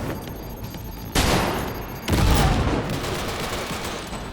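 Machine gun fire and a grenade in the video game Cyberpunk 2077, heard as a dense rattle of gunfire broken by two abrupt, loud bursts about a second apart, then continuing shots.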